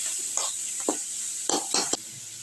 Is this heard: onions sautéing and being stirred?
yes